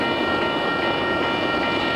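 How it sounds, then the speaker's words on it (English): An empty sand train led by Union Pacific locomotive 6275, formerly Southern Pacific, rumbles past close by across Clement Avenue in Bay View, a dense, steady roar of rolling wheels and rattling cars filling the whole moment. "It might be the repo train."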